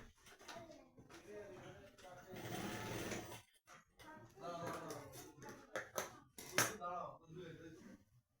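A sewing machine stitches a trouser pocket in short bursts of rapid clattering, with a longer run in the middle, close up and interleaved with a person talking.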